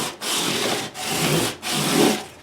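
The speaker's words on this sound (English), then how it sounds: "So this is 400 grit. We're taking out all those marks of the file." A sanding block with 400 grit sandpaper rubs along the frets of a guitar neck in three long, even strokes with brief pauses between, close and dry.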